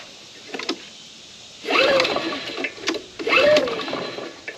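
A Honda power plant engine with its air filter removed cranks in two loud, close mechanical bursts with a short pause between them and quieter clicks before them, without catching.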